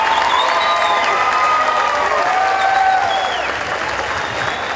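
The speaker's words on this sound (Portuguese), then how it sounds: "foi recebida de pé com aplausos" A standing audience applauds the arriving President Dilma at a ceremony near João Correia airport, with loud, dense, continuous clapping and scattered cheers filling the whole stretch.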